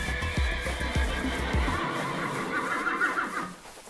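An Undead Horse in the video game Trek gives a loud, wavering neigh over clopping hooves and heavy low thuds, and the whinny trails off as the hooves stop partway through.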